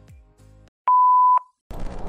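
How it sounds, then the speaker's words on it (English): A single steady electronic beep sounds for about half a second, a clean sustained tone marking the start of a voicemail recording, with quiet gaps around it and noisy rustling following after. "Please leave a message after the tone."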